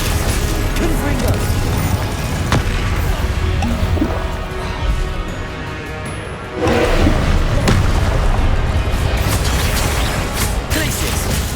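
Spell explosions from the Confringo fire spell in Hogwarts Legacy, with booming blasts and crashes amid constant dense combat noise and a brief dip in level before loud bursts resume.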